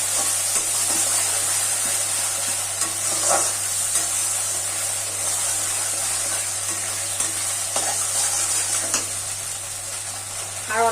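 Mustard-poppy paste being stirred in a hot pan for steamed pointed gourd, giving a continuous loud sizzle with repeated scraping strokes of a spatula, no voices.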